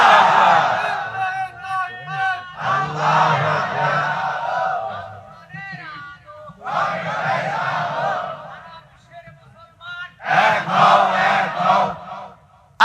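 A crowd at a religious sermon chants the takbir in loud call-and-response waves, several rising shouts in unison separated by brief pauses, with a single leading voice between them.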